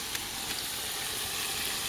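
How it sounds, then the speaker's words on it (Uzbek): Meat sizzling in a pan with garlic and onion, a steady, loud, even frying hiss with no talk. "Go'shtimizni ozgina qovurib olganimizdan keyin bunga birinchi bo'lib chesnok piyozni solamiz"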